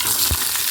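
Shallots and onions hiss and sizzle in leftover chili oil in a pan, a loud steady frying crackle with one brief stir thump in the middle.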